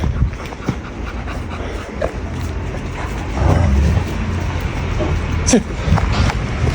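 A pet wolf pants and whimpers close by, breathy rhythmic panting with brief whines over steady low background rumble, while someone talks intermittently.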